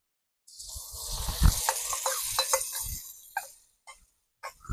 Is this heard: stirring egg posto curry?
yes